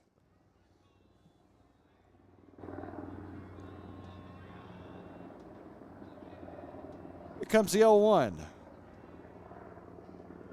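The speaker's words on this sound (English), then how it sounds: "And a helicopter coming in." A helicopter approaches over a baseball game as a low, steady engine drone rises in after a quiet start and holds to the end, with someone briefly talking over it partway through.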